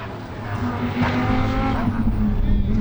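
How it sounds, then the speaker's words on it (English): A GT race car is driven hard over the curbs at Sebring, its loud engine note surging and shifting pitch with brief jolts and tire noise as it passes close. "Jumping the curbs, just driving the wheels off that car, man."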